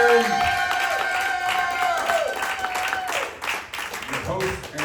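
Improv show audience at Snappers applauding and cheering for a performer named Justin, a dense wash of clapping and crowd noise with some voices mixed in, fading partway through and then swelling again.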